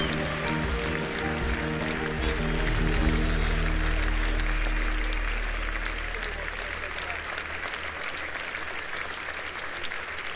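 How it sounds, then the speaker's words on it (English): An audience at a live Lufthansa event applauds as the crew is welcomed onstage, sustained clapping throughout with a low musical drone underneath during the first half. "Please welcome the crew with a round of applause."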